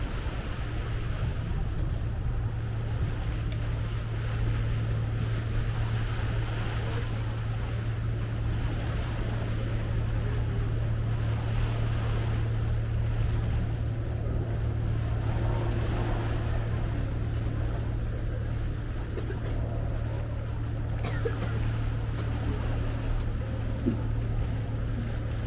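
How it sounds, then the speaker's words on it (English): A Thames cruise boat on the river in London turns to come alongside Tower Bridge Quay, its engine a steady low drone with water wash and wind, continuous and unbroken throughout. "we're about to turn the boat to go alongside Tower Bridge Quay"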